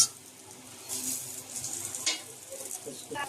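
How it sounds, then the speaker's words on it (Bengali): Boiling water poured over fried rice for khichuri in a hot pot gives a faint, soft sizzle with light watery splashes, rising and falling in brief gentle surges. "এখন আমি এর ভিতরে দিয়ে দেব ফুটন্ত গরম পানি।"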